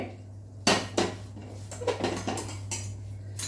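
Cashews stirred into ghee in a pan, heard as a series of sharp metallic clinks and scrapes of a utensil against the pan over a steady low hum.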